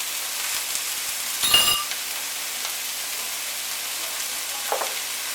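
Onion, minced garlic and ginger sautéing in a pan for curried chicken, a soft steady sizzle with a brief louder clatter of stirring partway through and a faint clink near the end.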